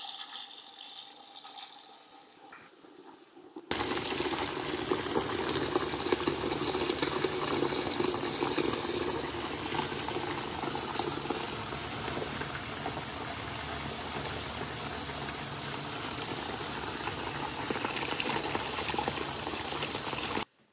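A Collomix AQIX dosing unit fills and mixes water with a car wash product, starting after a few quiet seconds with a loud, steady rush of flowing water that runs continuously until it cuts off abruptly at the end.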